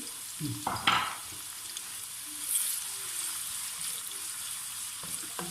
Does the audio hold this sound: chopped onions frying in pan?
yes